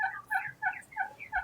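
Turkeys in a poultry yard gobble in quick rattling bursts, about five close, clear calls in a row with short gaps between them.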